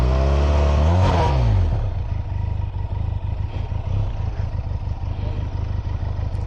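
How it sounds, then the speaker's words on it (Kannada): A Benelli TRK 502 twin-cylinder motorcycle revs up loudly and close by, the engine note climbing and falling over the first two seconds before settling into a steady, throbbing idle. "ಒಂದ್ಸಲ ರೇವ್ ಸೌಂಡ್ ಕೇಳಿದೆ. ಟ್ವಿನ್ ಸಿಲಿಂಡರ್ ಬೈಕ್ ಇದು"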